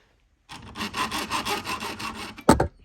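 A hacksaw cuts into a 1:18 scale Holden Monaro model car, with about two seconds of quick, even back-and-forth strokes close up, ending in a single sharp clunk.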